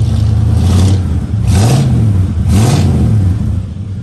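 A 1986 Chevrolet El Camino engine revs loudly and close, rising and falling in three distinct throttle blips over a steady idle rumble, with no talking.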